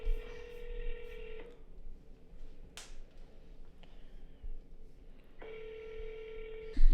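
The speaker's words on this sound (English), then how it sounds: "Let me call one more person at least." A phone call is dialed, with steady tone beeps at the start and end around a quiet stretch and a brief click.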